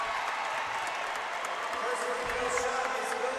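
A packed high school gym of basketball fans at a Vela versus Los Fresnos game: a continuous, fairly loud roar of crowd chatter and cheering fills the space throughout.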